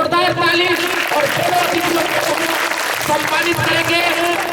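An audience at the Bharat Rang Mahotsav 2025 theatre festival claps steadily for a short play's director throughout, a dense applause that carries on beneath a voice talking over it.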